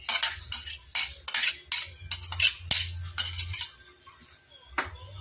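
Chopped onion, garlic and chili tumble into a cooking pan with clattering utensil scrapes and metallic clinks, close and busy, then a short quieter pause.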